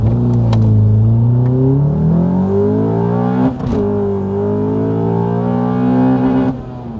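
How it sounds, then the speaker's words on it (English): A Honda Accord CL9 family sedan with a naturally aspirated four-cylinder engine and Type R gear ratios accelerating hard from 0 to 100, its engine note climbing through several gear changes, loud and close inside the car. "this family sedan with a naturally aspirated 4-cylinder engine was capable of doing the 0 to 100 sprint in"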